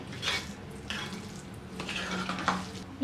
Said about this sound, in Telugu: నెయ్యి వేసి బాగా కలుపుకోవాలి.